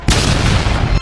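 Firecrackers explode in a loud, dense burst of booming, crackling blasts that fill the whole second at close range.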